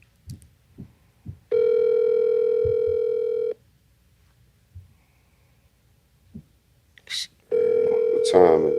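A telephone call ringing out on the line, two long steady ringback tones separated by a pause, with brief soft knocks and mouth sounds in between.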